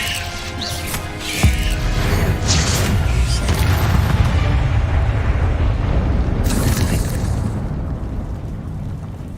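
Spell explosions in Hogwarts Legacy, a sustained roaring blast with crashing debris and a sharp impact near the two-second mark, loud and dense throughout, without speech.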